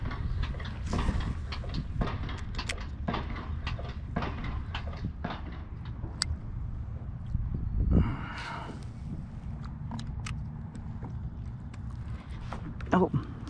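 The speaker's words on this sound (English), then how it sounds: "That banging sound you hear is a tractor over in the housing addition busting up some cement." Irregular sharp bangs and knocks from a tractor breaking up cement in a housing addition, somewhat distant, repeating over a low background hum with occasional nearby rustling.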